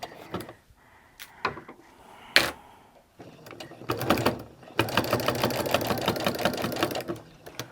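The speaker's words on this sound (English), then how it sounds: "that was apparently not slow enough for my sewing machine" A sewing machine runs in short bursts with clicks and thumps while stitching a quilted throw pillow, then stitches steadily and rapidly for several seconds, close and fairly loud.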